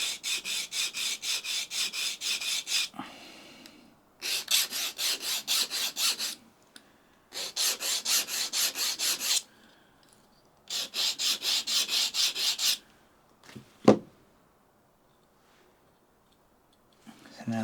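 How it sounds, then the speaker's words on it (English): The tip of a broken kitchen knife, being reshaped into a marking knife, is sharpened on a stone in four long bursts of steady rasping strokes, with brief pauses and a couple of sharp clicks between them. "you don't really need to sharpen much more than right out on the tip of it"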